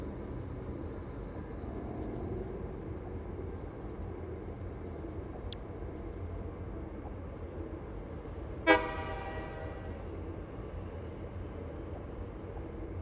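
A train horn from the video game Satisfactory gives one short, sharp toot partway through, standing out above a steady low rumble of machinery and ambient factory noise.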